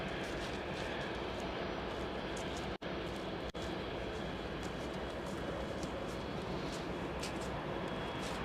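An Airbus A380 lines up for the runway at Frankfurt Airport, its engines making a steady, broad jet roar that stays loud and constant. Two very brief dropouts break the roar, and there is no talking.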